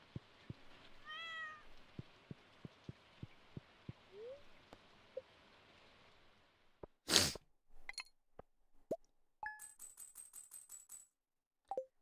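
A Stardew Valley cat gives a couple of short meows early on, followed by a series of sharp clicks and tonal game interface blips and chimes, all fairly quiet with no talking.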